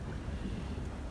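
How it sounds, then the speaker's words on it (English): Wind buffets a sailboat out on the Atlantic Ocean at about 10 knots, a steady rushing roar with low microphone rumble and a hint of waves, constant and close for a brief moment. "Winds are kind of picking up about 10 knots right now."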